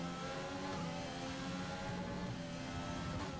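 A Formula 1 race car engine from the F1 2020 video game at the Bahrain Grand Prix, a continuous high, droning whine that holds steady throughout, loud and with no talking.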